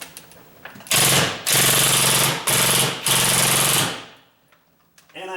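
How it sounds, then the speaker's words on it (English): An impact drill drives a screw into a wooden door frame in four loud, close hammering bursts of rapid impacts, each stopping briefly before the next, followed by a short quiet tail. "So I like the impact drills for that."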